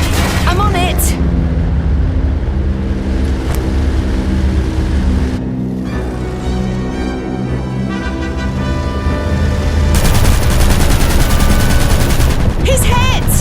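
Loud, continuous gunfire in the video game Aviators, dense rapid bursts layered over steady engine drone and explosions, with dialogue spoken over the combat.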